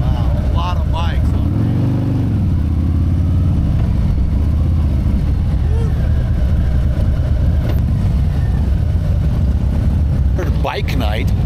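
Many motorcycle engines idle and rumble together at a crowded bike night, a steady loud mechanical drone with people talking over it throughout.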